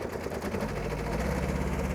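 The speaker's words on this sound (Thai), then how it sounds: "ผมนะเร่งเครื่อง" A steady engine drone from an old Japanese SR-J3 rice combine harvester, revving continuously with a low rumble and busy mechanical rattle, close and fairly loud without any talk.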